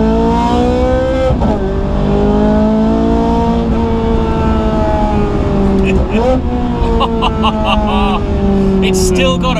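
Ferrari 430 Scuderia engine heard from inside while driving, a loud steady drone with rising and falling revs through gear changes, under continuous conversation.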